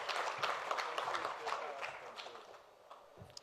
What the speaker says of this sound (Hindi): जोरदार तालियां पवन अरोड़ा सर के लिए